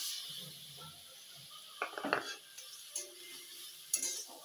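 A masala mixture goes into a hot kadhai and starts a soft, steady sizzle, with clinks of a metal spoon against the pan and scraping stirs, close and fairly quiet.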